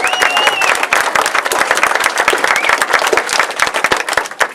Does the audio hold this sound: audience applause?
yes